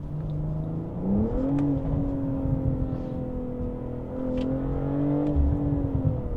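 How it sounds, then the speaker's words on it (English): A 2025 BMW M440i engine revs up through its exhaust and holds a droning, rising tone, with a second rev surge later, steady and fairly close, no talking. "And the exhaust notes are really good as well."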